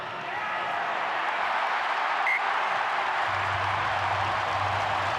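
A stadium crowd in Brisbane roars for a successful kick during the 2021 Wallabies vs France rugby test, a broad, sustained wash of cheering heard from a distance with a low rumble joining partway through.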